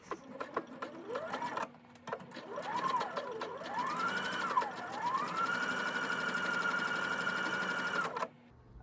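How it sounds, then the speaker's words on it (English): A sewing machine stitches a seam with a 1/4 inch seam allowance, running steadily for several seconds, its motor whirring with a rising and falling pitch before settling into a continuous hum, then stopping abruptly. "I'm going to take you to the sewing machine"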